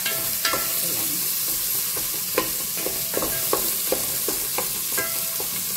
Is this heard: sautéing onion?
yes